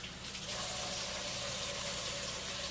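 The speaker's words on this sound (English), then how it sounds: "I put water in the plastic bag" Cold water pouring into a plastic bag during green chile preparation, a steady close hiss and splash of running water from start to finish with no talk.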